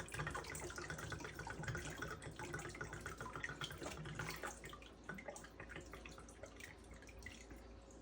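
Water rushes and splashes out of an earthship water filter being cleaned, a fairly quiet but continuous pouring flow with scattered drips and no talking.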